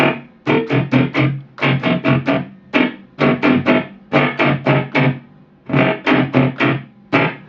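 Strummed electric guitar chords in a choppy, syncopated funk rhythm, short bursts grouped with brief gaps, close and fairly loud with a slightly distorted tone.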